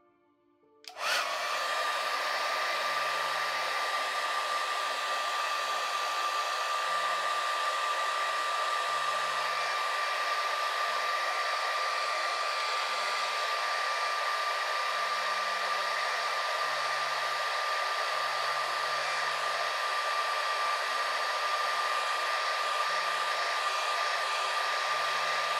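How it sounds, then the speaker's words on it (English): A hair dryer switches on and blows with a loud, steady, high-pitched whine and rushing air that continues without a break. "Trusty hairdryer. It's going to be noisy."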